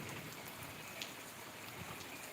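Heavy rain falls in a dense, even, quiet hiss with occasional faint drop patter, steady and distant throughout, with no voices.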